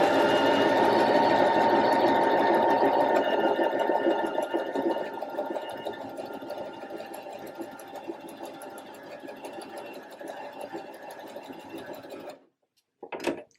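A sewing machine stitches fabric in one steady forward run without reversing, a close, loud, even whirring that gradually softens, stops near the end, then gives a brief final burst.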